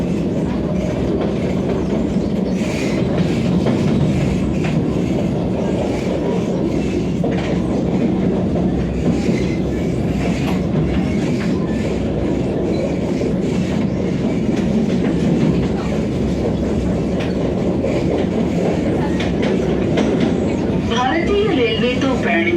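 Aboard a Vande Bharat train from Secunderabad to Tirupati, a continuous rumble of wheels on rails fills the carriage with steady clatter, while people talk faintly underneath.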